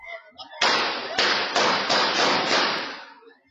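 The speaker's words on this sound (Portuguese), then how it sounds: "Dez segundos depois, tiros são ouvidos." A rapid series of about five or six sharp gunshots rings out in quick succession at a gate in Nova Iguaçu, Brazil, loud and close, with a brief voice before them.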